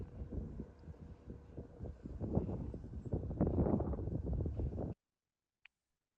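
Strong wind blows outdoors during a fire, roaring and gusting loudly into the microphone for about five seconds before cutting to near silence with one brief click.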